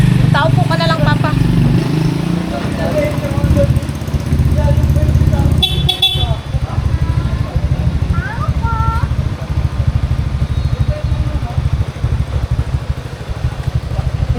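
Motorcycle engine idling and rumbling nearby in a street setting, with people talking over it and a brief horn toot partway through.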